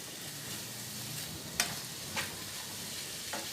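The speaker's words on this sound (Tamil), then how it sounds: "இது நல்லா எல்லாத்தையும் நல்லா மிக்ஸ் பண்ணிவிட்டு" Boiled potato and chopped onion bun filling being stirred and mixed in a pan, with a soft continuous scraping and a few sharper utensil clicks, close and fairly quiet, no talking.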